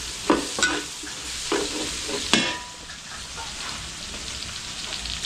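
Potatoes and carrots frying in oil for a catering job, a continuous sizzle like rain with a few sharp clanks of a utensil near the start.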